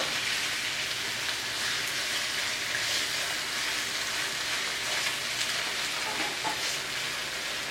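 Nice thick pork chops sizzle in a frying pan, a steady dense crackling hiss that holds at even loudness with no talk over it.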